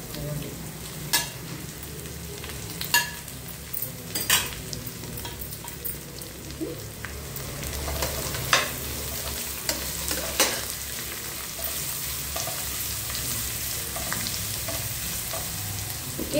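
Garlic, green beans and carrots stir-fried in a hot pan, a steady sizzle broken by repeated scraping and clacking of the spatula as the vegetables are tossed, close and continuous with no talk.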